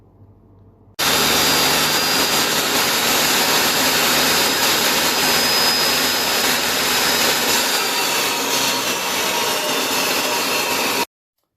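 A power saw blade cutting through a wooden board, starting abruptly and holding a loud, steady whining roar for about ten seconds, with the cut's tone shifting near the end before stopping sharply.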